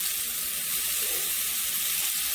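Mushrooms sauté in a pan for spaghetti squash, giving a steady, close, hissing sizzle that holds evenly throughout with no talking.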